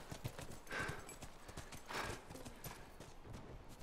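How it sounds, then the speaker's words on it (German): Horses' hooves clip-clop quietly and steadily in the video game The Last of Us, with a faint whinny rising above the rhythmic hoofbeats. "Komm, zu den Pferden!"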